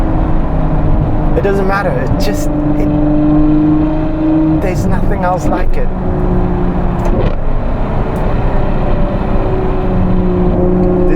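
A Novitec Ferrari 812 N-Largo S V12 drones steadily at cruising revs, shifting pitch with a few gear changes. Someone talks over it throughout.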